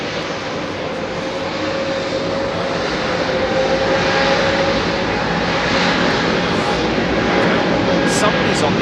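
An Etihad airliner passing at Heathrow Airport produces a steady, loud jet roar that builds slightly over several seconds, with voices talking in the background.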